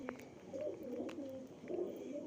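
Soft, low cooing of pigeons murmurs faintly and continuously, with a few light chirps and rustles in a quiet background.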